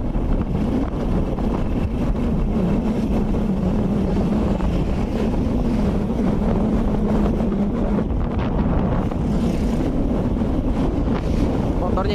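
A Supra X 125 motorcycle with a freshly repaired engine climbs uphill. Its steady, droning engine note holds under loud, constant wind buffeting on the microphone throughout the ride.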